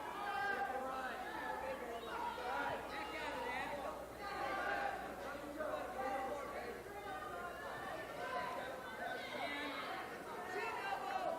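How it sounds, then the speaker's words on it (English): A large indoor crowd at a wrestling championship keeps up a steady roar of chatter and cheering across the whole stretch, a dense hubbub with swells and voices rising here and there. "And the crowd is beginning to pick it up."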